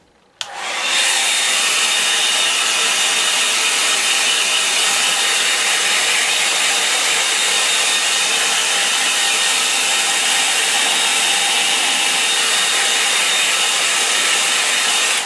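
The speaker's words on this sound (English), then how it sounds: "I'll use the hairdryer." A hair dryer blows steadily on watercolour paint, switching on abruptly and then holding a loud, continuous whooshing roar close by for the rest of the stretch, with no one talking.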